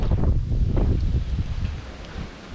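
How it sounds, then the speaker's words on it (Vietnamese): Strong gusty wind blusters outdoors in a garden near the sea, a loud rumbling roar against the microphone that eases toward the end. "ở mình hôm nay gió nhiều lắm, gió dữ lắm cả nhà"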